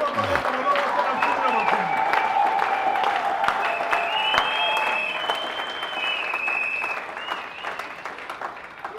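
A church congregation applauds and cheers in a sustained, dense burst of clapping that fades slightly toward the end, with voices calling out over it.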